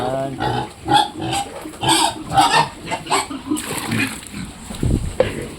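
Pigs grunt and oink throughout feeding time, with overlapping snorts and squeals close by and fairly loud, mixed with farmyard clatter.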